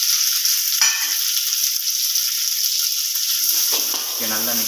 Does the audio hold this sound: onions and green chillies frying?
yes